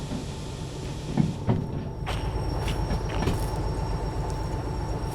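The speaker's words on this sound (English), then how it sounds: "Yeah, get the train stopping now." A locomotive in the Derail Valley train simulator rumbles low and steadily as it brakes, with a few clunks and a faint squeal over the continuous rolling drone, no talk.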